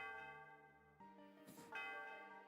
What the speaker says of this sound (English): Since you come, why don't you ring the bell?